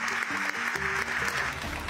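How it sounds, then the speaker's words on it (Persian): A live audience at a televised religious gathering claps continuously, a dense and loud wash of applause with a low musical or vocal undertone beneath it. "بله تشویق کنید آقا رو"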